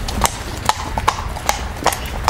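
A horse trots away on a hard surface after a fetlock flexion test during a veterinary pre-purchase examination, giving crisp, evenly spaced clip-clop hoofbeats that sound close and clear.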